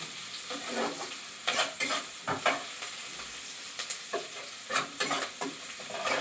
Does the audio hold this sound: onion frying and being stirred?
yes